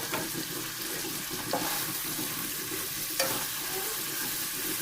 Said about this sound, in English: we're going to brown those sausage medallions